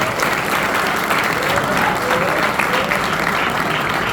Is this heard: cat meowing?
no